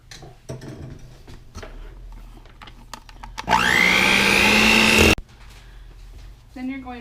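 Electric mixer whirring through soft butter and peanut butter for cupcake batter, a loud steady motor burst of under two seconds between stretches of kitchen clatter and a speaking voice.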